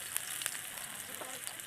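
Food frying in a pan, a quiet, steady crackling sizzle with small pops and a soft stir or two near the end, close up and without anyone talking.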